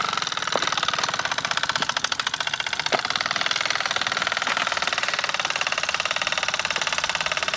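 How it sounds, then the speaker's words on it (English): A Mamod SA1 toy steam car engine runs steadily, its piston chugging in a fast, even rhythm with continuous hiss and rattle close by, a few sharper clicks scattered through. "Piston really going for it now."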